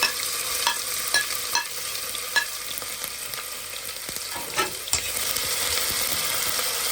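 Chopped onion frying in oil in a pot as the base for rice, a steady soft sizzle with occasional stirring clinks and scrapes, close and fairly quiet with no talking.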